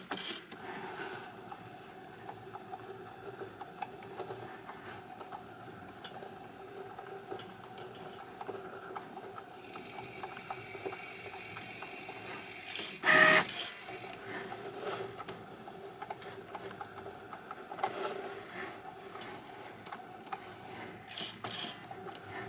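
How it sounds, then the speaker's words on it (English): Cricut cutting machine double-cutting printable tattoo paper, a quiet continuous mechanical whir and faint rasp with steady tones, one brief louder clunk midway, close by and with no talk. "This is set for a double cut, so it will cut twice."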